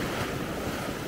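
Ocean surf rolls in on the beach at Maspalomas, Gran Canaria, making a loud, continuous roar of breaking waves mixed with wind buffeting the microphone.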